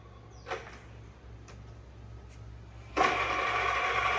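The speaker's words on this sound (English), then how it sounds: "Working of spindle at its maximum speed, that is 1250 RPM." A Seong Kwang SKR-1000 radial drilling machine spindle runs at 1250 RPM. A low hum and a few sharp clicks give way to a loud, close, steady whirring rush that starts abruptly near the end.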